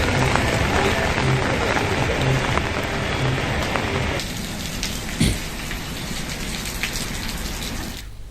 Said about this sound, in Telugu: పాడేరు పరిసరాల్లో రాత్రి నుంచి ఎడతెరిపి లేని వర్షం కురుస్తోంది